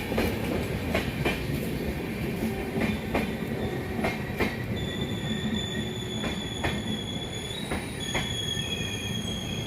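A train rolls past with a continuous rumbling roar, high metallic wheel squeal and rhythmic clickety-clack rail beats, loud and close throughout with nobody talking.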